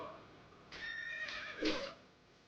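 A horse whinnies in World of Warcraft, ridden through water. It gives one loud, clear neigh in a few rising and falling bursts, with no other sound around it.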